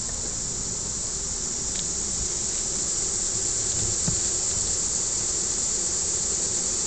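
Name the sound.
honeybees fanning wings inside hive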